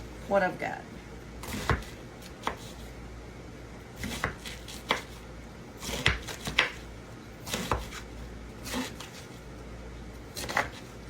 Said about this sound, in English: Rough chopping.